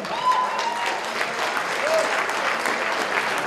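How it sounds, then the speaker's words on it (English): A crowd at a Garrick Centre event applauds and cheers loudly and continuously for several seconds, with scattered whoops over the clapping. "please make some noise for Chad Wiebe"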